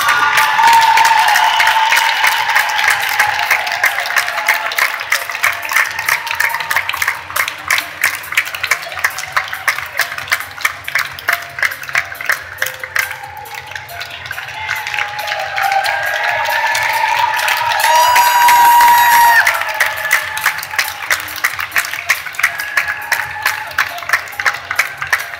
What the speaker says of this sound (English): Ready to clap, ladies and gentlemen, for the Lakeland Terrier